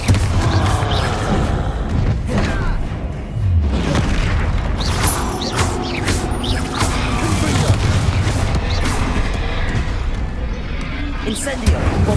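Confringo and Bombarda spells burst in Hogwarts Legacy combat against a troll, a dense, loud run of booms and crashes under constant game noise and voices.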